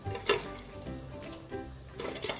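Store-bought Hakka noodles go into a pot of boiling water, giving a soft, fairly faint clatter and bubbling with a louder splash near the start. No one talks.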